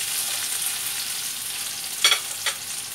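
Sour mango pieces sizzle and fry in a pan, a steady high hiss with two brief scraping stirs near the end.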